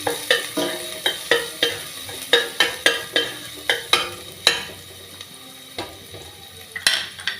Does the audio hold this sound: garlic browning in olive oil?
yes